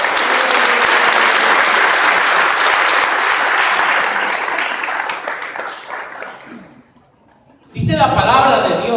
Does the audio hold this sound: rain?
no